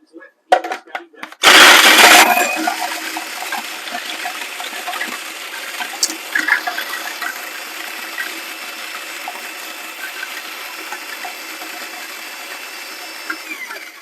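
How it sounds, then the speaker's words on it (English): A food processor grinds biscuits into fine crumbs for cappuccino cupcakes, starting with a few short pulses and then settling into a loud, steady whirring grind that runs on and gradually eases over several seconds. "into the food processor go the biscuits. You want to process these until they're a fine crumb."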